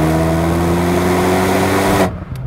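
A Renault Megane RS Trophy R with an Akrapovic titanium exhaust drones loud and close at steady revs for about two seconds, then cuts off abruptly.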